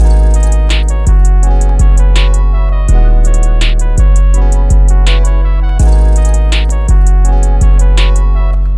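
Hip-hop beat built in FL Studio in a wavy style, with a bright synth lead riding over booming 808 bass hits and crisp hi-hats, looping steadily and loud with no voices.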